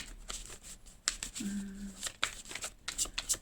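Tarot cards being shuffled and drawn for a Cancer horoscope reading, with close papery flicks and slaps in irregular bursts and a brief faint tonal hum partway through.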